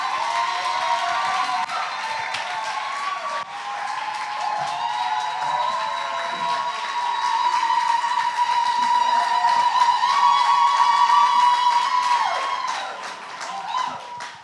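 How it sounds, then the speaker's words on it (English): An audience at a testimony event breaks into applause and cheering, a sustained wash of clapping that swells toward the end before tapering off. "Let's give a very warm round of applause for Emilee."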